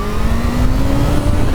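A Kawasaki Z H2 motorcycle rolls on the throttle in second gear going downhill, giving a loud, close, continuous engine roar that climbs steadily in pitch over a short burst, with no voices.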